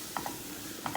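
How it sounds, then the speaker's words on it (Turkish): A spoon stirs flour into tomato paste in a pot, two pairs of light scraping clicks against the pot over a soft background sizzle. "Unu şöyle bir karıştırıyoruz."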